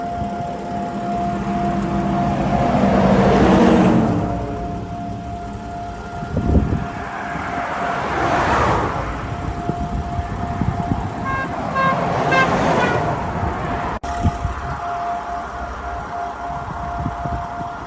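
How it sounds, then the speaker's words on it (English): An Israeli memorial alarm siren sounds from a distance while traffic stops on the road. Long wavering tones rise and fall over passing and idling vehicles, with a brief horn toot. "it gives you a sense of what that alarm siren threat sounds like"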